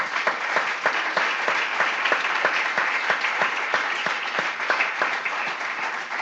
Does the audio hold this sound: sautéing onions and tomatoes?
no